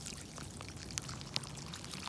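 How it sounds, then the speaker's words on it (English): Water pours onto a large fire after a train crash, heard as a faint, steady hiss and trickle with a couple of brief sharp pops, distant and quiet. "that is just water pouring into the fire"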